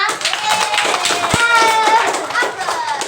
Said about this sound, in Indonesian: kasih aplaus dulu untuk kita semua